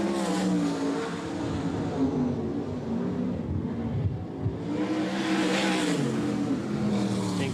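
Race car on a speedway, the Thirsty Camel number 70 in Group 4, roaring steadily with a continuous engine drone that rises and falls in pitch as it accelerates and passes, loud and close throughout.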